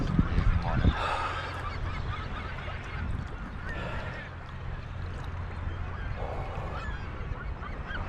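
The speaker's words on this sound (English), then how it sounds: "A lot of bird life out here today." Geese honk repeatedly outdoors on a cold day, a loud burst of calls at the start followed by scattered honks amid steady wind and low ambient rumble.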